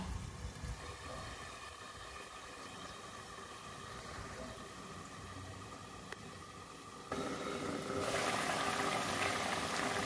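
A pot of fish and potato curry simmers on the stove, a continuous close bubbling hiss that swells noticeably louder partway through, with no voices.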